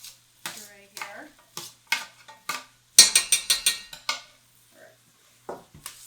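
A utensil scrapes brown sugar off the bottom of a soup pot of butternut squash soup. The scrapes come as a series of short, close, rhythmic strokes with pauses between them, and a voice speaks briefly.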